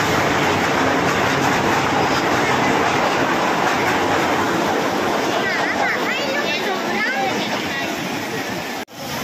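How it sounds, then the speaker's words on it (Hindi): Train pulling into a station platform in India, a steady loud rumble of rail cars filling the whole stretch, with chatter and voices over it and a brief dip near the end. "हमारा ट्रेन अभी आ गया है"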